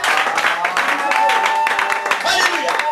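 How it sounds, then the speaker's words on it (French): A church congregation applauds and cheers together in a sustained, dense wash of clapping with raised voices mixed in, close and fairly loud throughout. "Est-ce qu'on peut dire une acclamation à notre Dieu?"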